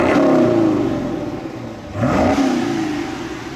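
Muscle car V8 held in park and revved toward a 4,000 RPM limit, two loud rising-and-falling rev bursts close by with the engine droning between them.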